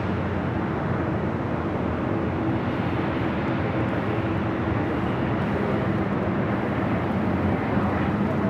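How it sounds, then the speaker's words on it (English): A China Eastern Boeing 777-300ER jet at LAX produces a loud, steady broadband engine roar, continuous and unbroken throughout as if spooling up on the runway nearby. "China Eastern, the 777-300ER heading to Shanghai,"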